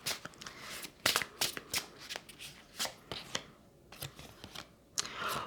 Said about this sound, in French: je vais rajouter une carte sur l'homme.